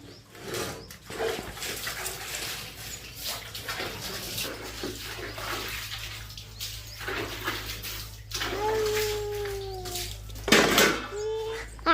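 Dishes being washed by hand: running water splashes quietly while plates and utensils clink and knock, ending in a louder clatter.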